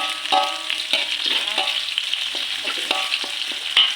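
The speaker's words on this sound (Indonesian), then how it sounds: "Setelah itu kita masukkan sawinya ya. Oseng-oseng kembali." Carrots and mustard greens stir-fried in a pan for vegetable rice vermicelli, a loud continuous sizzle close up with repeated scraping stirs of a spatula and no speech.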